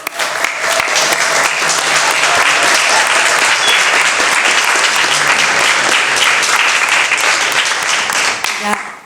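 Loud, dense audience applause at a film press conference, welcoming the team behind a 2023 film, sustained for about nine seconds before tapering off at the end.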